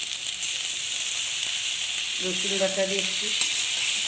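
Garlic paste sautéing in hot oil with fried taro stolons, a steady bright sizzle throughout, with someone talking briefly over it.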